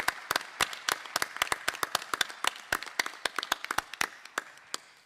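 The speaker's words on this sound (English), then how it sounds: "we'll give them a round of applause for being absolutely amazing" Scattered, crisp handclaps from a modest conference audience applauding a delegation, individual claps clearly separated and irregular, moderately near and steady throughout before easing slightly at the close.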